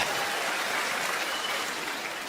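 An audience in a stand-up comedy show applauds as a steady, even wash of clapping at close range, without speech, across the whole short stretch.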